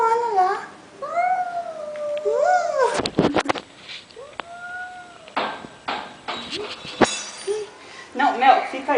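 A neighbour's cat meows repeatedly in short, rising cries close by, with clinking and clattering noises around the midpoint and people talking in Portuguese over and between the calls.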